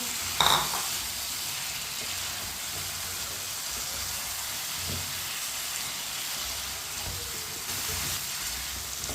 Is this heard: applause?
no